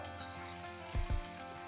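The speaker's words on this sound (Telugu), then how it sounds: "ఇప్పుడు మనం కట్ చేసి పెట్టుకున్నాం కదా ఆనియన్స్ అండ్ మిర్చి వేసేద్దాం." Onions and green chillies for a mango chicken curry fry in a pan, a short, faint sizzle with a couple of stirring knocks.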